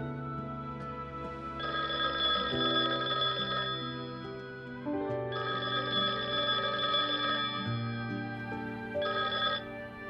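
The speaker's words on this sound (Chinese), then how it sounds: "家里的电话常常无人接听。" A home telephone rings on and off in long electronic bursts, steady and unanswered, with a low tonal backing underneath and no voices.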